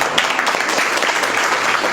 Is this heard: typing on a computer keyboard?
no